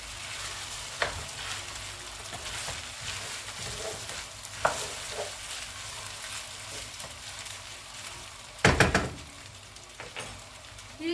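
Rice toasting in a pan for Uzbek pilaf, stirred now and then, gives a soft steady sizzle broken by a few scraping knocks and a louder clatter near the end.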